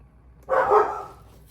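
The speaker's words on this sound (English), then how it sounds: "The dogs are going crazy, which means the groceries are here" Dogs barking indoors at a grocery delivery, a single loud burst of barks close by, with no talking over it.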